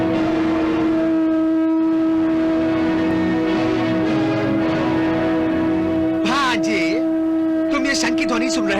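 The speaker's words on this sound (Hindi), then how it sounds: "शंख की ध्वनि सुन रहे हो?" Conch shell blown in a battle scene from the Shri Krishna serial, a long steady horn-like tone held throughout at moderate loudness, joined near the end by brief swooping, warbling blasts.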